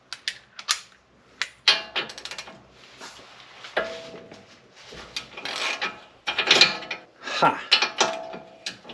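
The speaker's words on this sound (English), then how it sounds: "27mm socket to go in here to get it off." A ratchet with a 27mm socket loosens a bolt on a BMW X5 E70, making irregular bursts of clicking and scraping metal close up, with pauses between strokes and a short exclamation from a person.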